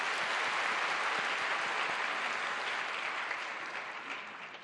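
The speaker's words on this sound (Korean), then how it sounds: "우리 격려의 박수 한번 드리겠습니다." Church congregation applauding its choir after a year-end worship song, a dense steady burst of many hands clapping at close range that slowly tapers off.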